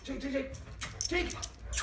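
Close, agitated dog whimpers and yips come in uneven bursts while a person talks nearby, with some jangling like keys in the background.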